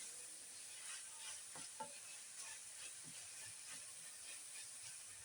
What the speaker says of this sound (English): And we just want to cook this until our onions are